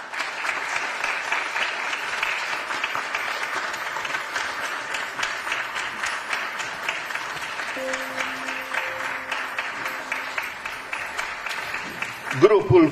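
Audience applause at a Romanian Language Day stage show, a dense, steady wash of clapping from a large crowd that holds for the whole stretch, with a brief tonal note sounding partway through and a sharper burst near the end.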